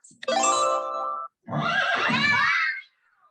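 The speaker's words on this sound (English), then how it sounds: "What is it? Everybody say horse. Horse. What sound? What sound? So we have a horse." A horse gives two loud, close neighs: a long whinny, a short gap, then a second rougher whinny.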